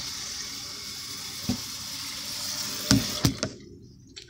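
Water running from a kitchen tap into a sink while noodles are prepared, a steady hiss with a few knocks and clatters near the end before the flow is shut off.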